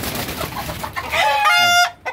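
Fayoumi chickens on a farm cluck and squawk loudly in an agitated flock, with one bird's sustained harmonic call rising above the rest near the end.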